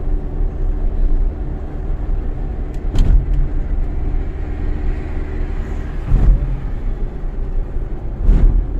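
A car cruising along the Pondicherry bypass road, a loud steady rumble of engine and road noise from inside, with a few brief thumps from bumps or passing vehicles.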